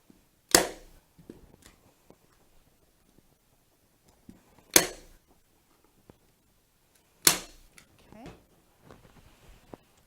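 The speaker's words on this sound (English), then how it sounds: "Do not staple all the way to the end on the sides because you do want to tuck this." A staple gun fires into fabric on a chair being reupholstered, three sharp loud snaps spaced several seconds apart, close up, with faint handling noises between them.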